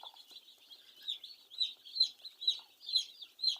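Day-old broiler chicks in a warm brooder heated by charcoal burners, giving a continuous chorus of high, rhythmic peeping chirps. The chirps come close together and sound near, with no talking.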